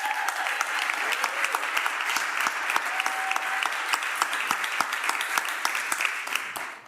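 Audience applause for a couple being welcomed on board as future missionary staff, a steady dense clapping wash lasting the whole stretch with sharper individual claps poking through, moderately loud and unbroken.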